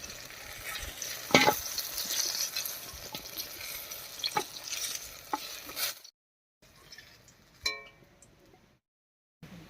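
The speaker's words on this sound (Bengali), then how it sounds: "বেগুনটা বেশ লাল করে ভেজে নিয়েছি এবার নামিয়ে নিচ্ছি" Eggplant fries in hot oil with a steady sizzle and several sharp stirring knocks, close by, before the sound cuts out to silence twice near the end.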